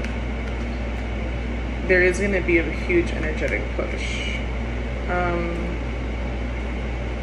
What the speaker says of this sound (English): Sorry about the fan, you guys. It's just been really hot.